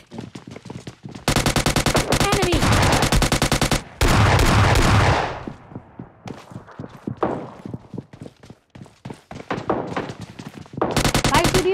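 Shotgun fire in the mobile video game PUBG Mobile Lite: loud, close bursts of rapid shots come in two long volleys, then scattered single blasts and footsteps before another burst.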